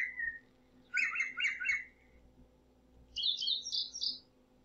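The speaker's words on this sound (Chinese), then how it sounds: "比方说你想要加一些鸟的声音" Bird sound effect from an editing library's preview: two bursts of bright chirping, whistling birdsong in rapid trills, each a second or so long and separated by a pause, loud and clear over a faint low hum.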